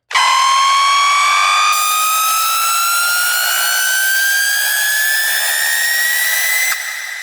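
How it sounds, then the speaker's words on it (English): A synth riser in an electronic music remix sweeps steadily upward in pitch for about seven seconds, loud and bright with stacked harmonics, an added upper layer entering partway through, alone with no voices. "which is almost like a riser"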